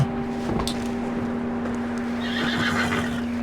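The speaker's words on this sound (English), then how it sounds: "Calm it down, Senor Horse." A horse whinnies in Red Dead Redemption 2 during a snowy blizzard, a short nearby neigh over a steady hum of wind and ambient game noise.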